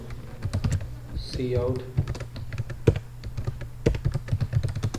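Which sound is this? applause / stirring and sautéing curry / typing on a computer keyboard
typing on a computer keyboard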